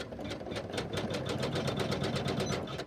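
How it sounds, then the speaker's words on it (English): Sewing machine stitching at a steady fast pace, a rapid even run of mechanical ticks close by, fairly quiet and alone. "I'm gonna start the stitching here"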